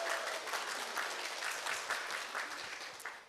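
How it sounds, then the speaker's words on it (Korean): Audience applause in a hall at a Daejeon child-care policy forum, welcoming the chair of the panel discussion; steady, dense clapping from many hands lasting throughout, fairly even in level with no voices. "박수로 좀 맞이해 주세요."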